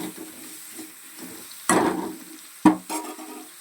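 Tomato frying in a pan for hotel-style paneer tikka masala, a soft sizzle underneath with two sudden louder hissing bursts as the pan is stirred, close and alone without speech.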